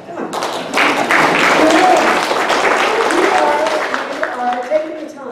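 An audience at a community Beaches Watch meeting applauds, a dense burst of clapping that swells and then tapers over several seconds, with voices mixed in.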